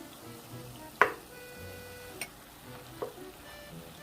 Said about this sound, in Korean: 계속 강불로 조리듯이 볶아주세요